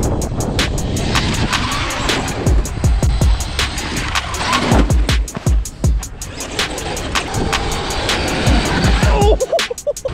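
A Traxxas X-Maxx RC monster truck drives outdoors in cold Midwest weather near a McDonald's. Its electric motor whines and revs in loud, close bursts, with tires scrabbling and skidding between the runs.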